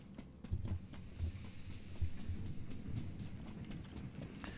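A train rolls along rails in the video game PlayerUnknown's Battlegrounds, a faint rhythmic rumble with low clunking beats of wheels over track joints, heard at a distance.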